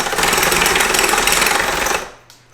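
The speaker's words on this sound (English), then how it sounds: "I got these step bits. Probably just use the bigger one. Drill it out" A step bit bores a hole through a metal cowl bracket on an NC Mazda Miata, a steady loud grinding drone lasting about two seconds before the drill spins down and stops.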